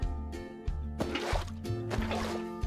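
Water sloshing and gurgling as it pours into a block-built infinite water source in Minecraft, with several short bursts of liquid splashing close up and no talking.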